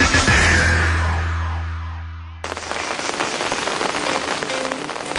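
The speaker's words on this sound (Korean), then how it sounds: "밤새 비가 옵니다." Steady rain falls through the night at an army support unit. Music fades out first, then the rain takes over as a dense, even patter on surfaces, fairly loud and continuous.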